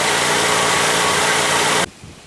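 A Ford 2.3L four-cylinder engine in a Ranger idles with a steady, loud broadband running drone and the crank pulley spinning, then cuts off abruptly near the end, leaving only faint low rumble.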